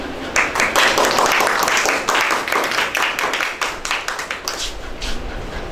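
An audience claps for a guest speaker at a business finance lecture, a dense, steady burst of many hands that starts abruptly and tapers slightly toward the end, with no talk over it.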